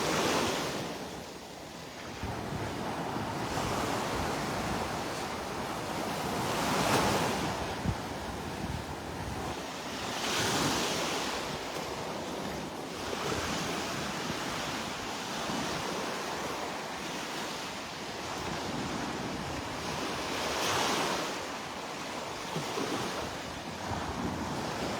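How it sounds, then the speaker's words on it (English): Surf rolls onto the sand at Delnor-Wiggins beach in North Naples, Florida, with waves swelling and breaking every few seconds under steady wind buffeting the microphone. "Welcome to the beach at North Naples,"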